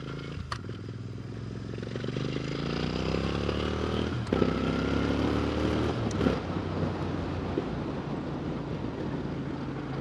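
A motorcycle rides on the Gold Coast in Australia, its engine drone rising and falling in pitch as it changes speed. Heavy wind rush over the microphone runs continuously underneath, with a few brief clattering bumps.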